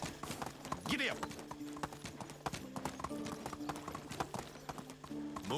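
Horse galloping in the medieval video game Medieval Dynasty, rapid rhythmic clip-clopping hooves throughout with a brief whinny near the start, as a player talks over the hoofbeats.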